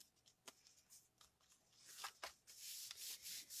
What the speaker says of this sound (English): I tend to rub the back of the card after I glue things down